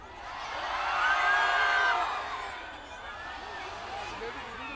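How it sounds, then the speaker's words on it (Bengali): A student crowd at a Debidwar student fest shouts in a swelling wave, the mass of voices rising to a loud peak and then dropping back to a lower, scattered roar. "এবার আমার হাত যত উপরে থাকবে তত জোরে চিল্লাবা"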